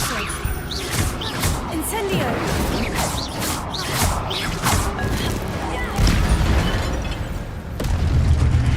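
Fire spell Incendio cast repeatedly in Hogwarts Legacy, with bursts of whooshing flame and booming impacts layered over busy game combat noise, continuous and loud throughout.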